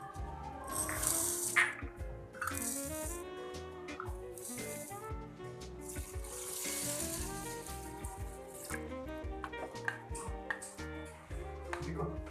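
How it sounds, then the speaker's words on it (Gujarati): Husked lentils for Surati khaman are washed in several changes of water, with close, quiet sloshing and rattling of grains against a vessel, a steady churning texture with small splashes throughout. "આ રીતે આપણે દાળને 3 થી 4 પાણીએ ધોઈને તૈયાર કરી લઈએ."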